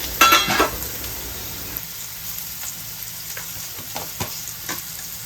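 Medium-thick pieces of pointed gourd (parwal) hit a cumin, asafoetida and turmeric tempering, a loud initial sizzle easing into steady frying with a few sharp stirring scrapes and clinks.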